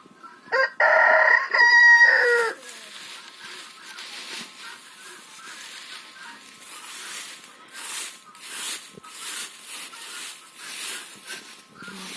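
A rooster crows loudly nearby, then softer scratching and brief hen clucks continue in the background.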